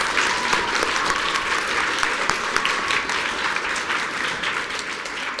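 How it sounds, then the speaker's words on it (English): Dense, steady applause from an audience at a book quiz competition, continuous and fairly loud for the whole stretch with no talking over it. "Let's give them some huge applause."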